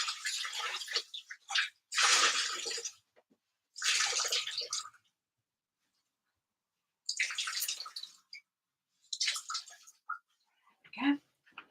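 Soaked fibre, left in water with a little washing-up liquid, is wrung out by hand in a series of splashy bursts of dripping and pouring water, split by short silences.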